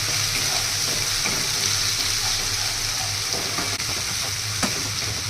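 Masala spice paste frying and being stirred in a pan for egg biryani, a steady close sizzle throughout with scattered scrapes and clinks of the spoon against the pan, no talking.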